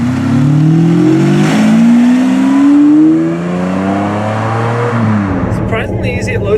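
Loud V12 engine of a manual Ferrari 550 Maranello pulling hard, its pitch climbing through the gears, then easing back to a lower rumble at the end.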